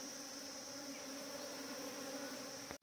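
Honeybees buzzing at a beehive where a swarm has settled in, a dense, steady drone of many wings close by, continuous and even until it cuts off abruptly at the end.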